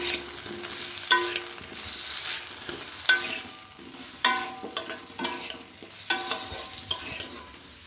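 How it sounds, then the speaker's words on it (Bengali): An egg sizzling as it fries in a pan, a close, steady crackle broken by repeated scraping strokes of a spatula at a fairly regular rhythm. "আমি এখন ডিমটা ভেজে নিচ্ছি"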